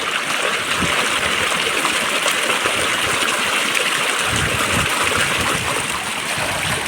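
Water pouring from a farm motor pump outlet in a village, a loud, steady rushing and splashing flow up close, continuous for the whole stretch.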